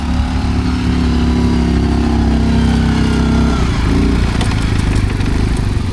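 Linhai ATV engine droning steadily off-road through mud and sand, loud and close with a sustained mid-low hum that shifts pitch partway through as the throttle changes, with no voices.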